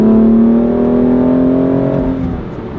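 BMW M2 CS with its stock S55 engine revving, a loud close rising engine note that holds steady, then drops off and settles to a lower rumble, with no talking.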